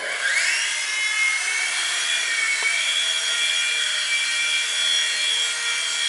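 A helicopter hovers in ground effect, its steady whining turbine and rotor drone holding loud and close with a slight rise at the start, with no talk.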